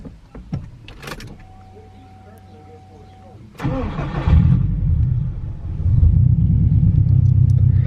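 Subaru WRX with a Stage 2+ tune and newly installed transmission cranking and catching on a second attempt, a brief whir then a loud rumbling engine start and steady idle, close by, with people talking over it.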